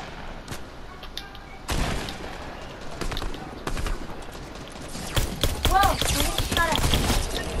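Fortnite gunfire in a one-chest challenge match: a busy run of close shots and rapid bursts, some sharp single cracks, loud over game noise, with excited voices talking over it.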